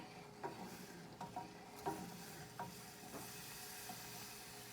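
A spoon stirs and scrapes around a saucepan of rice pudding brought to a boil, in a handful of soft, irregular strokes, quiet and close, over a faint background hiss.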